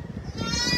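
Sheep on a farm bleat in a brief wavering cry that rises near the end, set against outdoor background noise.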